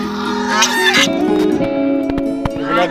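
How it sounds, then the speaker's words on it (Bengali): Several domestic geese honk loudly and close by in a muddy village setting, a string of harsh, panicky calls that overlap and carry on steadily throughout. "ডাক শুনলে মনে হয় যে আতঙ্ক,"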